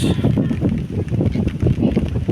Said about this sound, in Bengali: প্রচণ্ড বাতাস